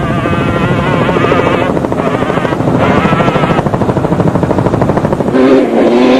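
Steady, loud rotor chop of a helicopter flying over an off-road race in South Africa fills the whole stretch with a constant pulsing drone and no pauses.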